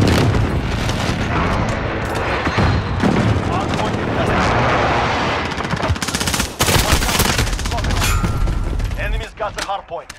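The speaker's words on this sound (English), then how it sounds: "Airstrike in." Call of Duty airstrike and gunfire in a Hard Point multiplayer match, loud dense bursts of automatic fire and booming explosions running continuously for ten seconds, with a shotgun firing among them and voices mixed in.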